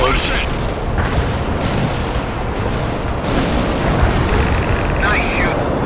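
Heavy artillery explosions slam into enemy positions in the World in Conflict war game, a dense, loud rumble of overlapping blasts and booms that runs the whole length, with radio voices talking over it.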